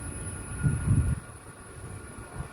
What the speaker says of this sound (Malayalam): അവിടെ നിന്ന് ട്രെയിനിൻ്റെ ഒച്ച വരുന്നുണ്ട്